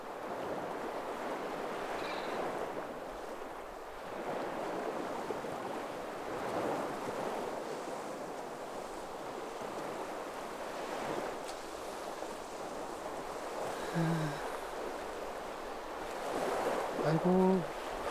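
Ocean surf on the coast of Ulsan, South Korea, washes in repeated swells, rising and falling in broad surges with some wind noise; a few faint voice-like sounds appear near the end.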